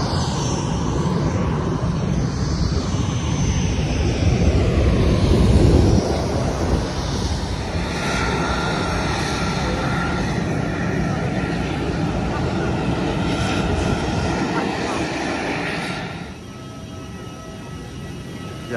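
A passenger jet's engines drone in a steady broadband roar from inside the cabin, on a flight from Portugal to Barcelona, easing down and quieting near the end.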